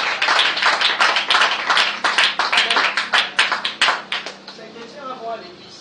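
A church congregation clapping, a burst of quick, loud, rhythmic handclaps close by that gradually slows and fades, with voices mixed in near the end.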